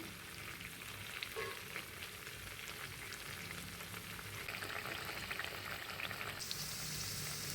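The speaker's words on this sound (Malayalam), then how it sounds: "തീ കുറച്ച് വെച്ച് വേണം ചിക്കൻ വറുത്തെടുക്കാനായിട്ട്" Steady crackling sizzle of chicken frying in hot coconut oil over low heat, continuous and close, with a brief clink partway through and no voices.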